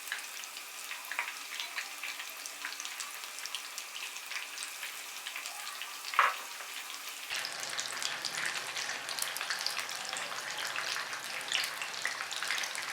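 Chicken pieces in achari coating shallow-frying in oil in a kadai, giving a steady close crackling sizzle throughout, with one sharp clink midway and a louder, busier sizzle in the last few seconds; no voices.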